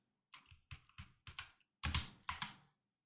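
A command being typed on a computer keyboard, six or seven separate key clicks at an uneven pace that end in two louder, firmer strokes, close and quiet with no talking.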